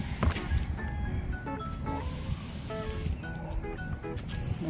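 A hand water sprayer hisses steadily over the leaves of rooftop-grown grape vines, a broad close spray sound that runs almost unbroken, with faint tonal clicks and squeaks mixed in.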